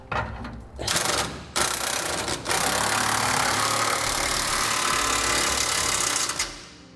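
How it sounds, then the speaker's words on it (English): A power impact tool rattles in loud, rapid bursts as it tightens the bolts of a B&W sliding fifth wheel hitch in a truck bed. Short blasts come first, then one long sustained run that cuts off. "With that done, we'll tighten our bolts down now."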